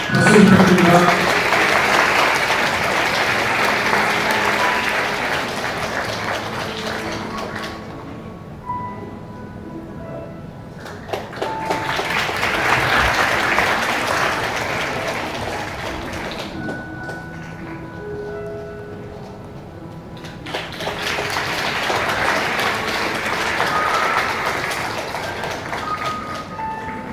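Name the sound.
wedding guests applauding bride and groom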